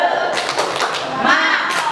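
A group performing a rhythmic spirit clap, tepuk semangat, at a school training session: dense, loud, close bursts of many hands clapping in a quick patterned rhythm, with a few voices mixed in.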